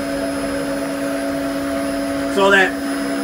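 A 10 hp three-phase liquid ring vacuum pump runs with a steady, loud mechanical hum and whine throughout, while someone talks briefly over it near the end.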